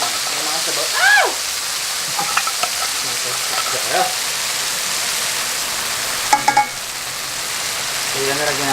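Tuna sizzling and frying in a pan with garlic, a steady broad hiss with occasional stirring clatters and a few sharp clinks, faint voice murmurs underneath.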